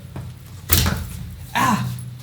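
Two heavy thuds and rattles as a stuck sliding glass door in a hotel room is jerked and shoved without opening, close by, with faint voices around.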